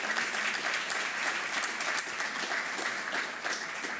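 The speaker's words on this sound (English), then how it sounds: "give a round of applause to all of you" Crowd applause at a behavioral health workforce symposium, a steady, full round of clapping from many hands, even and sustained from start to finish with no voices over it.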